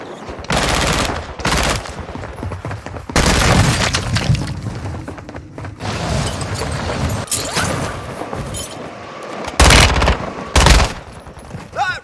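Rifle fire in the shooter game Warzone 2 Resurgence: repeated bursts and single shots crack loudly through the scene, with several dense volleys and quieter gaps of ambient game noise between them.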